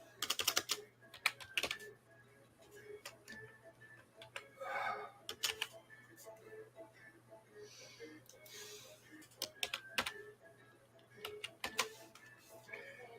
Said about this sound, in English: I don't want to hear any complaints about my keyboard.